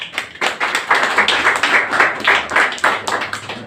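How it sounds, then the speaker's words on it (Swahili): Scattered hand clapping from a small gathering as a newly elected Red Cross branch board is welcomed at an Isiolo election meeting; uneven, moderately loud claps with a few louder bursts and no speech over them. "Tafadhali tuwapigie makofi na tuweze kuwakaribisha."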